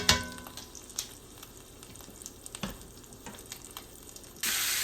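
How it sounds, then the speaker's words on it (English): Onions and mushrooms sizzle steadily in the pan used to cook a ribeye, with a few sharp crackles and a loud surge of hissing at the very end. "now we're going to make some onions and mushrooms in here"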